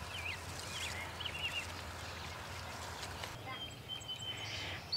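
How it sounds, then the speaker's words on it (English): Birds chirp faintly and at a distance on an 1840s farm homestead in summer, with short scattered calls over a low outdoor rumble and no talking. "I love hearing the birds chirping."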